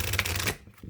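Tarot cards shuffled by hand in a quick burst of dense riffling clicks, close and fairly loud, that stops abruptly and leaves a faint rustle.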